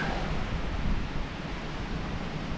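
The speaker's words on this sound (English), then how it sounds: "don't know if you can hear the wind or not, but it's kind of been coming and going, but the last 2 miles or so it's been pretty gusty" Gusty wind blows steadily across a Smoky Mountains trail on the way up Mt. LeConte, a continuous broad rushing roar with slight swells, loud and close against the microphone, with no voices.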